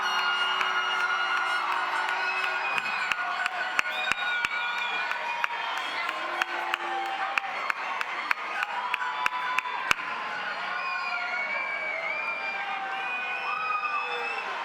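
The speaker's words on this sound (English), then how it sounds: "look for your parents, look for your friends, give them a round of applause" Graduates and crowd at a Liberty High School graduation ceremony in the Hillsboro School District, clapping and cheering loudly and continuously in a large space, with sharp applause peaks and shouts over the roar.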